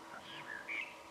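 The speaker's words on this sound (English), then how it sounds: "the starlings are actually alarm calling for him" Faint starling alarm calls, two or three short high chirps, heard at a distance over quiet background hiss.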